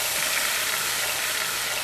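Carrots and onions going into a hot one-pot chicken dish, giving a steady, even sizzle of cooking vegetables for a couple of seconds with no talk.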